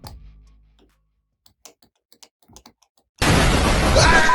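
A voltage stabilizer relay clicks several times in a sparse, irregular run of short, faint ticks, then a loud burst of broadband noise abruptly cuts in and holds.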